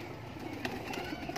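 Pigeons at a breeder's loft in Kasur, including a Laal Pari breeding pair, coo softly amid dense, busy background noise, with a few brighter calls standing out over the short stretch.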